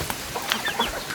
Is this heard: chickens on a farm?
yes